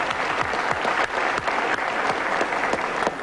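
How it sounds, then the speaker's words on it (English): A studio audience bursts into sustained applause on a 1991 British TV entertainment show, a dense, steady clatter of many hands clapping that carries at even loudness for the whole stretch. "what's worth a round of applause?"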